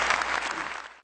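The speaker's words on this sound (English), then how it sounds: "maybe we should give him another clap" Audience applause for a poet at a live reading, a dense burst of clapping from a crowd that holds steady for about a second, then cuts off abruptly.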